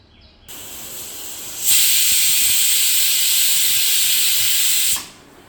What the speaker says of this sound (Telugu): ఒక 3 విజిల్స్ వేసింది. దీన్ని ఆపేద్దాం.